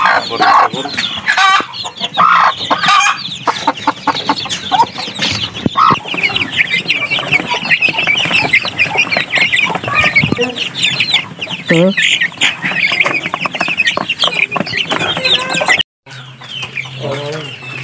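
Darag native chickens and many chicks cluck and peep continuously in a backyard, with a rooster crowing now and then; the calls are close and dense, and the sound drops away near the end.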